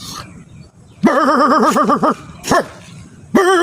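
A male dog gives a short run of loud, close barks and yelps, with brief gaps between bursts.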